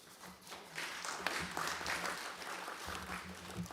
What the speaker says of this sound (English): Another round of applause, ladies and gentlemen, honorable members.